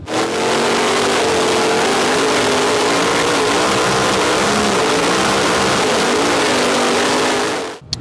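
A Get Performance 2010 Pro Buggy with a de-stroked 7-litre LS engine and sequential gearbox roars at a hillclimb, one long, loud, sustained engine note with slight rises in pitch, close by, cutting off abruptly at the end.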